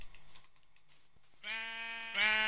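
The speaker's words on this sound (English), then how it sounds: "Oh, there's a sheep." Two sheep bleats in Minecraft, the first starting midway and the second following right after at louder volume, both close and clear over a quiet game background.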